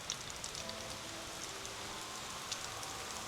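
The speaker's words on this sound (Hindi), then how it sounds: "तो बारिश आ गई है प्रेमियों" Steady rain falls through a forest, a soft, even hiss of drops pattering on leaves and surfaces, with an occasional louder drip standing out against the constant wash.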